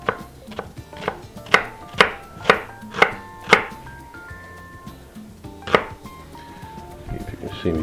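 A knife chops an onion on a cutting board in a series of sharp, evenly spaced knocks, about seven in a row, followed by a pause and a few more scattered cuts, close and clear.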